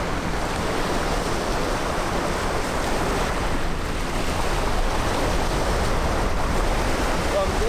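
Ocean surf at Kendwa beach, Zanzibar, rolls in as a steady, dense roar of breaking waves with a wind-like hiss, continuous and fairly loud throughout with no clear pauses.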